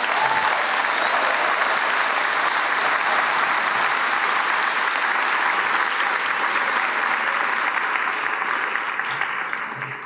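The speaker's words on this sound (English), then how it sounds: "Please give them a round of applause" A school class day audience applauds award-winning students, a dense, steady wall of clapping that holds loud for about ten seconds before easing slightly at the end.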